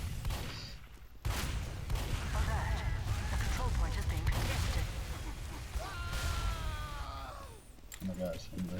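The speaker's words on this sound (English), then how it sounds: "Oh my god, another headshot from this sniper." A Team Fortress 2 sniper rifle lands a headshot amid busy gunfire and battle noise on the koth_ashville map, with someone talking over the game sounds throughout.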